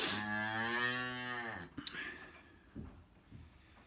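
Beef calves pulled from their mothers and kept in hutches bawl loudly, one long, drawn-out moo in the opening second and a half, followed by quieter thumps and rustling.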